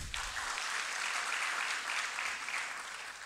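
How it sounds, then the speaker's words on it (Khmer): Audience applause in a hall at a leadership day event, a dense steady clapping from a crowd lasting a few seconds, fairly loud and close, alone without talk. "ផ្ទះដៃជូនគាត់មួយអញ្ចឹង"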